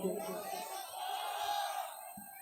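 A crowd at a mushaira poetry gathering cheers and whoops loudly, with scattered yells blending into a sustained roar that lasts throughout.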